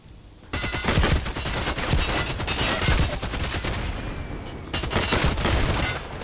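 Light machine gun fire in the shooter game Contract Wars rattles out in long sustained bursts, dense rapid shots continuing almost without pause after a brief quiet start.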